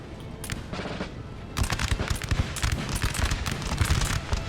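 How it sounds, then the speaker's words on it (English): Volleys of French artillery and musket fire in Napoleon: Total War thunder in dense, overlapping bursts, with a lighter patter of shots that grows into a loud, continuous barrage. "French artillery that's just broken"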